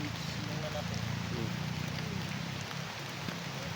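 Steady rain falls in a continuous, even hiss throughout, with voices talking under the downpour.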